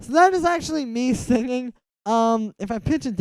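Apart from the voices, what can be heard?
No everyday noise stands out behind the speech.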